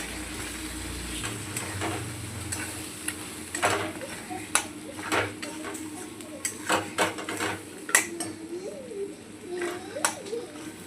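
Mutton sizzles and fries in raw masala paste while being stirred, a soft, steady crackle broken by sharp clicks and taps of a spoon against the pan, with someone talking over the cooking.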